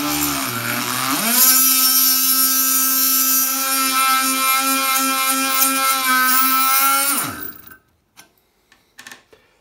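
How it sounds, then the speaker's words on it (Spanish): A drill countersinking a traditional hookah runs as a loud, steady, high-pitched whine with strong harmonics for about seven seconds, then cuts off, leaving a few faint clicks and knocks. "aparentemente hemos avellanado un poquito"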